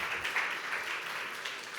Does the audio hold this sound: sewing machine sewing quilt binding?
no